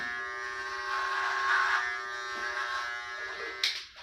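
An electric shaver buzzes steadily and close up while shaving a head bald over thick regrowth of about two weeks, the tone holding continuous with slight swells before a brief clatter near the end; no talking.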